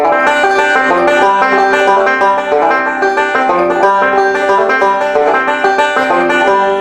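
A bright Scruggs-style banjo lick in C plays over and over in a steady loop, with crisp plucked notes repeating at an even pace.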